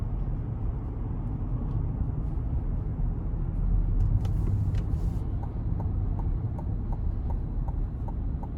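A 2022 GMC Yukon SLT with the 5.3-liter engine accelerating, heard from inside the cabin as a steady, loud low rumble with road noise and faint periodic ticks, no talking.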